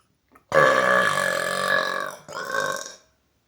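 A single long, loud, deep burp that carries on for about two seconds, stops briefly, then trails off in a shorter second belch, heard alone and close up.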